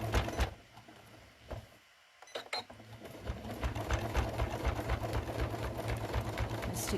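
A sewing machine stitches a fabric folded star trivet in a steady rapid whir, a brief pause near the start before it runs continuously and close.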